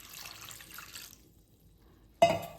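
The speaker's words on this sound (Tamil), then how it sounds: "இப்போ இதுக்கு 3 டம்ளர் தண்ணி விட்டுடலாம்." Water poured from a tumbler into a pot of rice and toor dal, a brief splashing gush near the end following a faint earlier trickle, close and alone without talk.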